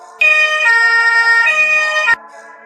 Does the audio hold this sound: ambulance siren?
yes